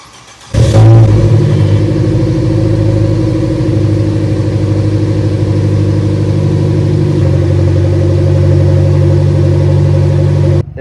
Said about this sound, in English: And also I have a cold start of this car, which I will insert now.